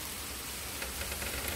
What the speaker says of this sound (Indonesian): Hujan es tuh, lihat.